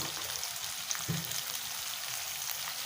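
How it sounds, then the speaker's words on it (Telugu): Capsicum pieces sizzling in a pan for restaurant-style chicken Manchurian, a steady soft frying crackle throughout with a brief stir-like bump near the middle, no talking. "క్యాప్సికమ్ ముక్కలు, వీటిని కాస్త వేయించుకోవాలి"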